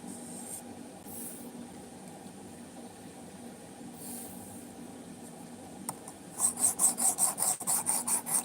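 A knife blade is drawn across a sharpener in a quick series of rhythmic rasping strokes near the end, preceded by quieter rubbing and faint handling noises. Close and fairly soft, with no talking.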